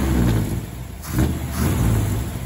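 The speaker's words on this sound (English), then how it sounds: "This is a 1955 hardtop Chevy Bel Air hardtop with dual quads and V8 engine." A 1955 Chevy Bel Air hardtop with a V8 and dual quads idles loudly nearby at a car show, a deep lumpy rumble swelling in a couple of brief revs.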